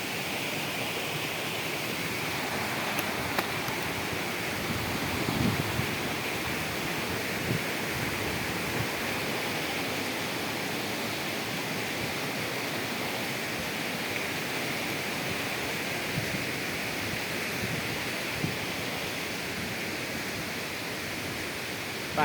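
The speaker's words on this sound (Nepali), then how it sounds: "पानीको छिट्टा यहीँसम्म आउने रहेछ पुरै।" A waterfall roars steadily, its spray reaching the listener, as a broad, constant rush of falling water that stays loud and unbroken throughout, with no voices.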